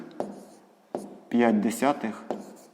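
A pen scratches out a sixth-grade math solution to a proportion problem, with short strokes and taps on paper partly under a person talking.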